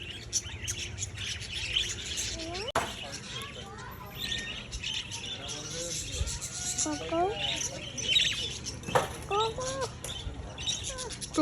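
Birds at a zoo chirp and squawk repeatedly with short rising calls scattered across the stretch, over a steady background hum, while people talk intermittently nearby.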